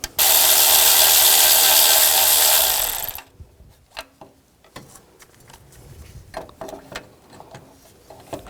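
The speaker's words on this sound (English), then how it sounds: "Using a 12mm socket, take the 2 bolts out on the inside of this bracket." A loud, continuous whirring buzz from a power ratchet with a 12mm socket backs bolts out of a bracket on a 2004–2009 Toyota Prius AC condenser. About three seconds of whir, then scattered clicks and clanks of handled metal parts.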